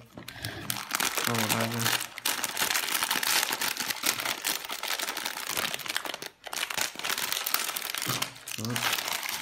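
Plastic packets of seasoning and oil from instant black pepper crab noodles being crinkled and torn open up close, a loud continuous crackling rustle while someone talks over it.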